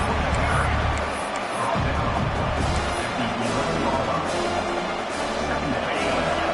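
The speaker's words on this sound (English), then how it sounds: "here comes the noise. This crowd is trying to inspire this defense" A dense, roaring football stadium crowd fills the clip, a constant wash of voices and cheering for the defense with no single speaker standing out.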